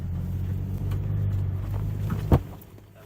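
A 2021 Ford Bronco two-door being driven, with a steady low engine rumble carrying through the whole stretch and a brief sharper thump or knock near the end, no voices.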